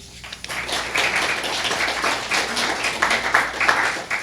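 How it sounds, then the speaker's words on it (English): A small audience claps after a poem reading, a steady broad wash of applause that holds for several seconds with no voices over it. "You don't have to clap after."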